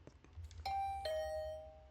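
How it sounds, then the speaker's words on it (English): A doorbell chimes in the video game The Hundred Line: Last Defense Academy, a clear two-note ding-dong with ringing tones fading out, alone and fairly quiet. "The sound of the doorbell sent a chill down my spine."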